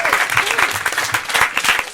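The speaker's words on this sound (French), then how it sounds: "J'applaudis, moi." A small comedy-show audience claps briefly, loose and uneven, with a few voices talking over it.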